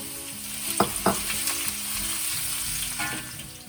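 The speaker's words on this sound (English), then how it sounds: "in a hot wok, heat some oil, and then put in your pieces of ginger and garlic and stir that through." Ginger and garlic stir-frying in hot oil in a wok, a steady close sizzle broken by a few scraping stirs of the spatula, with no talk.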